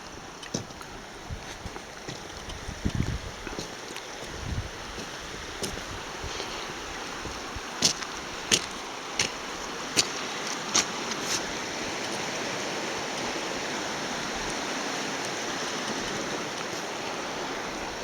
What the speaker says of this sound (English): We're now looking north up the Weiser River.